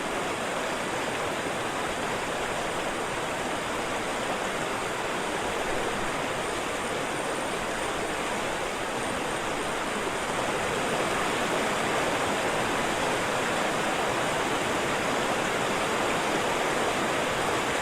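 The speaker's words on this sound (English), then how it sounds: "And then as they get closer to the river, they'll start hearing it a little bit." Steady rushing water from a river waterfall in a jungle video game level, a dense continuous roar with no break or talk, holding evenly loud throughout.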